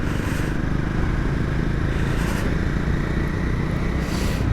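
A Triumph Scrambler 400X motorcycle pulling away from a green light around 4000 rpm, a loud, steady engine drone mixed with heavy wind rush heard from the rider's position.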